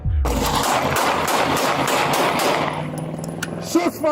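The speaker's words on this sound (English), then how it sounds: "Despite being injured, the officer managed to return fire." Rapid gunfire rings out close and loud during a police shootout, dense bursts of shots tumbling over one another for several seconds before thinning into a few scattered cracks, with no talking.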